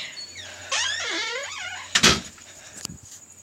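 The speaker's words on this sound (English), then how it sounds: "This time we're actually going to open the door without magic." A door is opened outdoors, with a squeaky creak and a loud clunk of the latch or frame partway through, then a short rattle, fairly close and with no talking.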